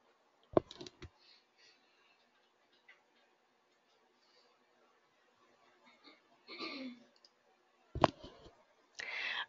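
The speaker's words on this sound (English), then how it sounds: "Hold down my Shift key and the left click on my mouse." Computer mouse clicks, a few sharp isolated taps spaced across a quiet stretch, with brief bursts of other small desk sounds between them; close and distinct, no one talking.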